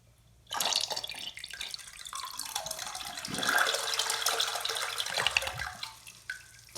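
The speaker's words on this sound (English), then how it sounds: "it's good to know that it still flushes" Toilet flushing after its plugged siphon jet was cleared: water rushes in and swirls steadily for several seconds at close range, with a slightly sluggish, gurgling drain toward the end and no speech.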